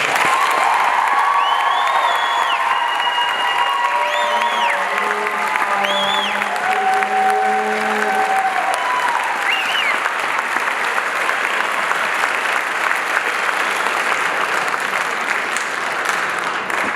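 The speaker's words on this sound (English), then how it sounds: "Can we give these graduates another round of applause, please?" A graduation crowd at Davinci Academy's 2021 ceremony claps and cheers for the graduates, loud sustained applause with whoops, and a tonal musical line sounds over the first half before fading into the clapping.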